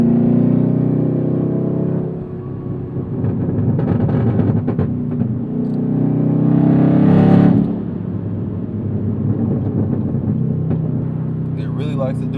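A Chevrolet Camaro's engine rumbles and revs while someone talks over it, with a rising surge and scattered exhaust crackles near the end.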